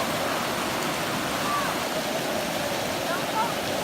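Floodwater from the Flood of 2019 rushing like a river over a road near a mailbox, a steady loud broadband roar of flowing water close by, with faint voices in the background.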